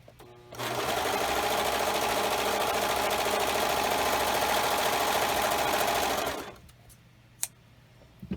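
A sewing machine runs a steady, continuous test seam on scrap fabric for about six seconds, loud and close, then stops, followed by a couple of small clicks.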